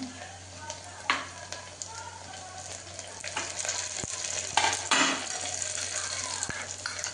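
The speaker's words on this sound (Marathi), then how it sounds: "आपला कांदा झालेला आहे, थोडा कढीपत्ता टाकूया" Curry leaves dropped into hot oil with browned fried onion sizzle loudly and continuously nearby, with occasional spoon scrapes and crackling bursts as the mixture is stirred.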